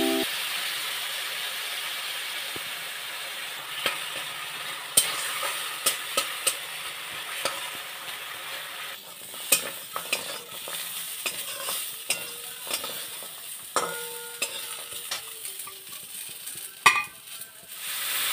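Vegetables sauté in a pan with ginger and cumin paste and chili, making a long, steady hiss and sizzle dotted with frequent spatula clicks and scrapes against the metal, heard close and moderately quiet with no talking.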